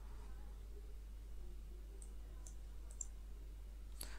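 Computer mouse clicks at a desk, a handful of small sharp ticks near the end over quiet steady hum, faint and close.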